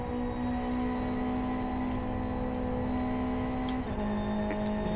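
A damaged racing car engine in the Live for Speed driving game drones with a steady, loud, humming tone and slight wavering, continuous throughout with no talk.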